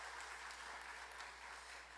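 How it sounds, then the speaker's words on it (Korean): A church congregation claps in welcome during a Sunday service, a steady wash of applause that carries through the whole moment without pause. "환영의 박수로 축하드리겠습니다."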